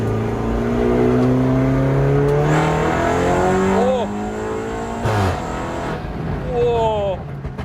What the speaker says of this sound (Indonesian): Suaranya menggelegar, tarikannya juga kenceng ini. Kencang ini mobil.